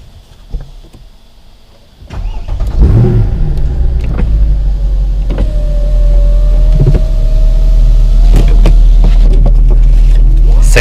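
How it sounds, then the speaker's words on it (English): A Mercedes C63 507 Edition cranks and fires up with a sudden loud burst, then settles into a deep, steady idle that slowly swells, preceded by a few faint clicks inside the car. "and then we're gonna start the car and go for a quick drive."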